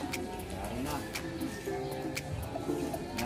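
Racing pigeons cooing at a loft during a club race, soft low repeated coos under a steady background with a few faint ticks and chirps, voices present nearby.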